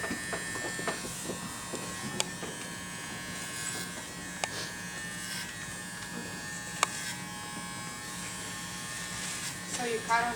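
Electric hair clippers run steadily on dry hair during a men's clipper cut, a close, continuous buzz with a few sharp clicks, under near-constant conversation.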